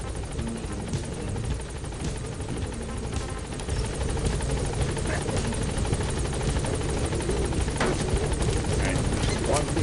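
The Pequod helicopter in Metal Gear Solid V arrives at a landing zone, its rotor producing a continuous loud chopping drone that grows slightly louder midway, with a voice speaking over it.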